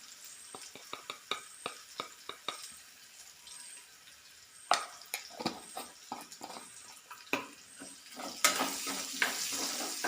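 Spoon stirring onions and turmeric powder frying in a pan, a soft steady sizzle broken by repeated sharp scraping clicks of the utensil against the pan, close and moderately quiet.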